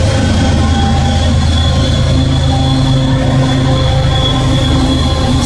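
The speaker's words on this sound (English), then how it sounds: "Excuse the train, I'm outside." A train passes close by outdoors, loud and continuous, its steel wheels squealing in sustained high tones over a heavy rolling rumble throughout.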